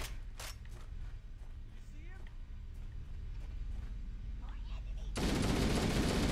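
Gunfire in the video game Halo: Combat Evolved, a few scattered shots over a low rumbling backdrop, then a sudden loud, sustained roar of firing that swells near the end.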